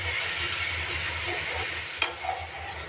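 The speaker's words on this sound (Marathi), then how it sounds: "हे आता चांगलं परतून घ्यायचं आपल्याला ह्याच्यामध्ये, असा कच्चापणा जायपर्यंत" Masala sautéed in oil in a pan, a soft continuous sizzle and hiss with gentle stirring scrapes and one sharp clink near the end, quiet and close with no speech.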